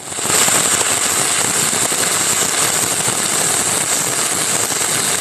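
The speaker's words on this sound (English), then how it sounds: "For 60-10 in the flat position, try a circular motion and angle the rod to build up weld." Arc welding with a 60-10 rod in flat position gives a steady, loud, close crackling and sizzling hiss that holds continuously from start to finish with no voices.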